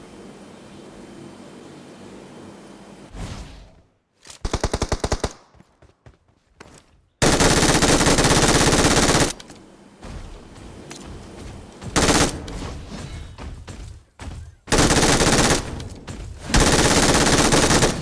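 Automatic gunfire in the BGMI battle royale game comes in loud, close bursts separated by short quiet gaps and reload pauses, with a few scattered single shots early on.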